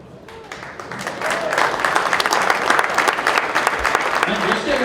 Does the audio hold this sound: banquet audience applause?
yes